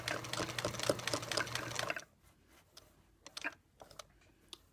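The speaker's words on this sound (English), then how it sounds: "we're only stitching the things that are on top. That's why we're top stitching this." A sewing machine top stitching fabric: a fast, steady mechanical chatter runs for about two seconds, then stops, followed by scattered soft clicks and taps as the fabric is handled, with no voices.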